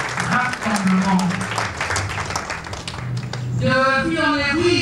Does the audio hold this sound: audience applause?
yes